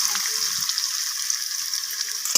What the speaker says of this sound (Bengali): আলুটাকে আমি ভালো করে মিশিয়ে নিয়ে লাল লাল করে ভেজে নেব